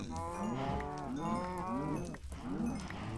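Cows moo repeatedly in the video game Minecraft, a string of close, loud, drawn-out calls in steady succession with a short break near the end.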